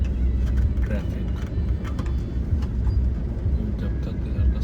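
Road traffic during an evening drive in Port Blair, a steady low rumble of cars and engines nearby, with a voice seeming to murmur over it.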